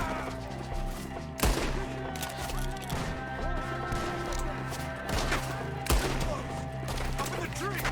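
Gunfire in Red Dead Redemption 2 during a shootout with enemies up in the trees, a dense run of shots over a music-like background with two sharp louder blasts standing out.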